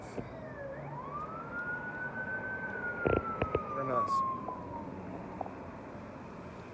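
A wailing emergency siren sweeps up and then slowly fades, moderately distant, with a brief spoken remark and a few clicks partway through.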